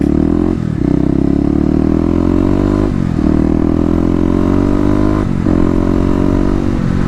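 Kawasaki KLX250 motorcycle ridden through the city in cold weather, its single-cylinder engine droning loud and close with steady revving that rises through the gears, the pitch dropping briefly at each of two shifts.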